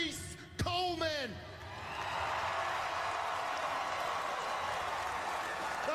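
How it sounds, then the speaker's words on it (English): A wrestling crowd at a 2005 event breaks into sustained applause and cheering after a brief shout, holding a steady, dense roar. "I would like everybody here to give a nice round of applause to Caprice Coleman"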